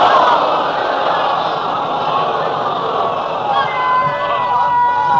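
A large gathering reciting salawat together in one loud, sustained mass of voices that holds steady from start to finish.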